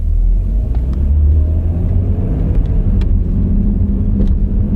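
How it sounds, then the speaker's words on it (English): Low rumbling car drivetrain at low speed, with a few sharp clunks and clicks rising above a steady droning road and engine noise, no voices. "it's like a machine gun going off under the car"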